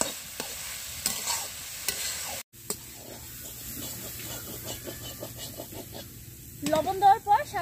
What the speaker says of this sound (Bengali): লবণ দেওয়ার পর আমি আরো 5 মিনিট নাড়াচাড়া করে নিয়েছি